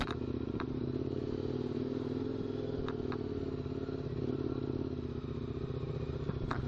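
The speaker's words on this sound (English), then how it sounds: "I think this is perfect riding for the big adventure bikes" Large KTM adventure motorcycles, 1090, 990 and 690 models, ride a rough Forest Service trail toward Whipsaw, giving a steady, moderately distant engine drone with faint clatters and knocks over the terrain and no talking.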